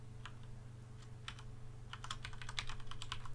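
Typing on a computer keyboard to enter a password, faint and close, beginning with sparse key taps and building into a quicker run of clicks over a low electrical hum.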